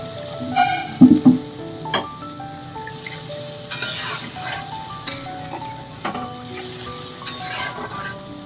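Water poured into a sizzling pabda fish curry gravy gives a steady frying hiss with bursts of louder sizzle, the clink of a utensil on the pot and stirring scrapes, close up throughout.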